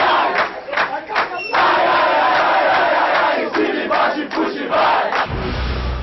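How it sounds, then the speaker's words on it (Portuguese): Large crowd in an arena roaring and chanting in celebration of Brazil's Olympic volleyball gold medal at the 1992 Games, a dense, sustained cheer with rhythmic swells and a commentator speaking over it. "É a torcida, merece festejar, carnaval no Brasil"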